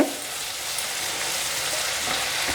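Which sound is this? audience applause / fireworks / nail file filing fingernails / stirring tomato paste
stirring tomato paste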